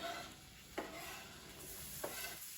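Garlic frying in a few tablespoons of oil in a pan, a soft steady sizzle with two brief stirring scrapes, close and quiet with no talking.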